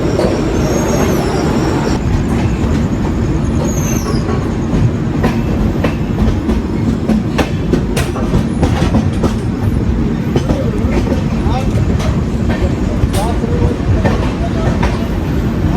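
Triveni Express pulling out of Phaphamau Junction, a loud continuous rumble of wheels on rails with rhythmic clickety-clack over joints, occasional high squeals and faint background voices.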